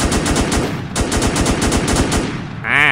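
Rapid automatic fire from an AK rifle in a Minecraft zombie-shooting server, a loud fast burst of evenly spaced shots that keeps going for over two seconds, then a short tonal ringing sound at the end.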